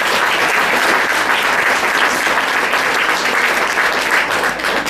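A jazz concert audience in Le Blanc applauds a guitarist. The clapping is dense and steady, a loud wash of many hands that fills the whole stretch.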